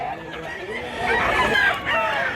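Black gamefowl rooster with a banded tail at a Cebu market crowing once, the call rising and swelling in the middle, with crowd chatter running underneath.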